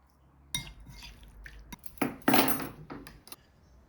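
A utensil stirring minced garlic and lime juice in a bowl, several sharp clinks and scrapes against the dish, bunched near the middle, with quiet gaps between.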